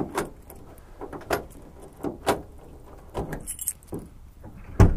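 Metal keys jangle and scrape in the door lock of a 1977 Dodge Ramcharger SE 440 Big Block, with several close clinking bursts and a sharp clunk at the end and no talking.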